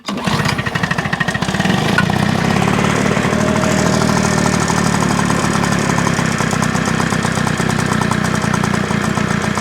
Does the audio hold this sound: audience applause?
no